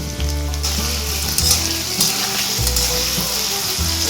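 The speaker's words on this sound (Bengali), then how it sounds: "লাল লাল করে ভেজে নেব" Fish pieces coated in salt and turmeric fry in hot oil with a loud, steady sizzle, while a low hum drones underneath.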